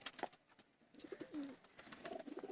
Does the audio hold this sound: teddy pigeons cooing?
yes